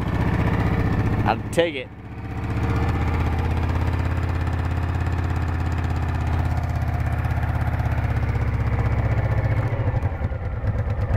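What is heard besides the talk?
motorcycle engine running at idle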